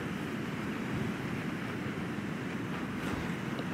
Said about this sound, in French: vu qu'il vente beaucoup, le stop il est allé partout